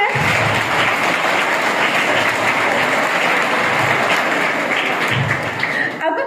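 Sustained, dense applause from a large audience at a school science fair in Patna, steady and loud for several seconds before tapering slightly at the end.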